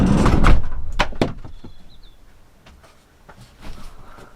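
A Citroen Relay van's sliding door is shut with a loud thump and a sharp clack, followed by a few lighter knocks and rattles from the latch and panel, then quiet.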